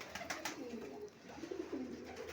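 Soft, low pigeon cooing repeats close by, with faint chirps and rustling in the background.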